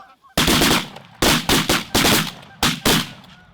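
Shotgun blasts ring out during a waterfowl hunt in Michigan, five or six loud, sharp reports in quick irregular succession, each ending in a short echoing tail.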